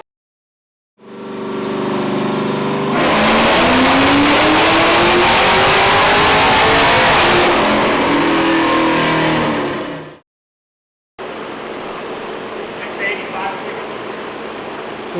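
A car on a dyno pull with exhaust cutouts open roars up through the revs in one long, loud sweep lasting several seconds before cutting off, followed by a quieter stretch of talk.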